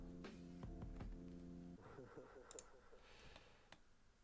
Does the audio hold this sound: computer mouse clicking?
yes